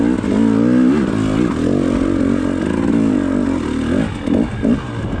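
A dirt bike climbs a snowy, rocky trail at Big Bear, its engine loud and close, revving hard with rising and falling pitch, then sputtering and clattering in short bursts near the end.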